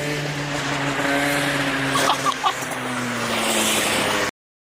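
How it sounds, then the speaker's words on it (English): A race car at a racetrack sends out a loud, steady engine drone with engine harmonics as it passes close by. The roar continues for about four seconds, then cuts off abruptly. "The race car's coming!"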